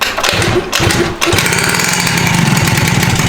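A Honda Elite scooter with a 120cc stroker engine fires up on its first start after a broken ground wire was replaced, then runs in a loud, steady, buzzing rattle close by, with no talking over it.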